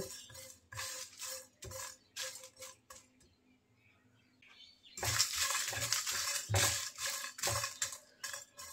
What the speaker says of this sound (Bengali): চুলার আঁচ অল্প রেখে নেড়ে চেড়ে একটু ভেজে নেব